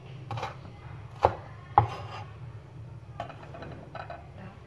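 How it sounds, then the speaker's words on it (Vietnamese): A knife chops and minces purple shallots on a board for stir-fried pork offal with pickled mustard greens, giving a few sharp near thumps over a low kitchen background hum. "Và cái phần hành hành tím này thì các bạn sẽ đập dập và băm nhỏ cho mình nhé."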